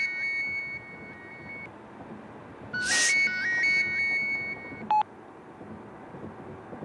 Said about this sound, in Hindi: दीदी का फोन।